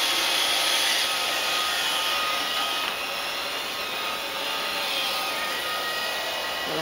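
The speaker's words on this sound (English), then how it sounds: "And there's my Roomba." A Roomba robot vacuum runs across the floor with a steady, loud whirring hum and a faint high whine, close by and constant throughout, with no voices.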